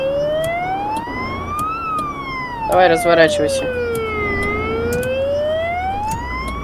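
An ambulance siren wails in a rising and falling sweep, loud and steady through the whole stretch, while people talk briefly underneath in a city street outside an emergency call.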